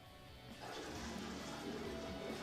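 Simulated water leak in a hazard test setup, a steady loud rush of flowing water like a toilet flush, starting slightly softer and swelling into continuous gushing noise.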